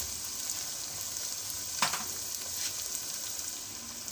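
Chicken frying in a pan as korma masala is added, a continuous bright sizzle with a sharp crackling burst partway through, moderately close and steady, with no talking over it.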